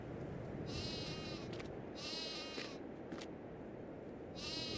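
Repeated bleating sheep calls in Farming Simulator 22, three drawn-out cries spaced a second or so apart, over a steady hiss of background noise.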